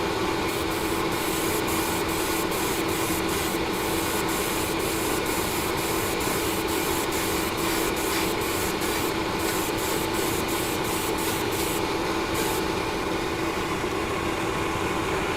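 Vallejo grey surface primer hissing from a spray can, a steady continuous spray broken by a rapid series of short regular pulses, close and moderately loud with no talk.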